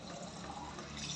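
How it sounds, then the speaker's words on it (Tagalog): Water refilling from a Gripo Stock filter tap at home, a continuous rushing, splashing flow of liquid heard up close and fairly loud throughout, with no talking. "refilling muna tayo ng mga tubig natin sa Gripo Stock"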